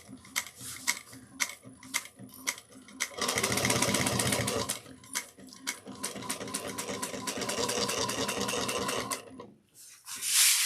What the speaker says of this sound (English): I'm gonna grab my machine, and I'm gonna go stitch in 1, 2, 3.